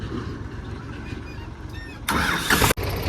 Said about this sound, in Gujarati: આ પહેલું ટ્રેક્ટર અને આ બીજું ટ્રેક્ટર